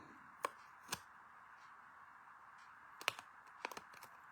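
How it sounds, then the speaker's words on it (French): Scissors trimming the overhanging edges of a paper card for a Christmas easel card: a few quiet, crisp snips spaced apart, with near-silence between cuts and no talking. "soit vous prenez vos ciseaux et vous coupez ce qui dépasse"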